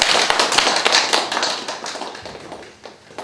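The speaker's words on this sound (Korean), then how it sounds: "우리 감사의 박수 드리겠습니다" A church congregation claps in thanks during an Easter service, a dense, fairly close burst of handclaps that gradually thins out.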